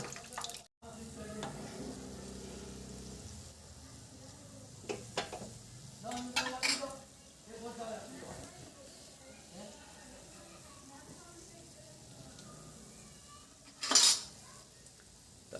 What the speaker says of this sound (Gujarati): અને આપણે તેલને આ રીતે ફેરવવાનું છે તો ફેરવી દઈએ